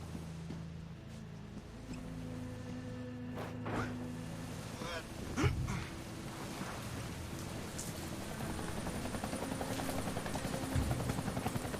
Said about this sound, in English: I hear a hell of a chopper. A helicopter chasing my friends.